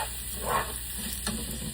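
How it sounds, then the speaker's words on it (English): Bacon and onions sautéing in a pan, a steady, close sizzle with a soft crackle and a faint scrape of stirring, heard alone. "onions sauteed as well"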